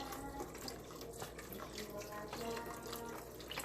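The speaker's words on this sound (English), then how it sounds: "this is organic vegetable broth. I'm gonna put that in there." Organic vegetable broth pours into a cooking pot, a soft steady stream of liquid heard faintly and continuously in a home kitchen.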